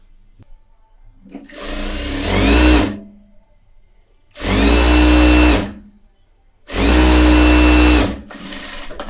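A tailor's sewing machine stitches along fabric lining in three loud, close bursts of fast whirring, each lasting a couple of seconds with quiet pauses between.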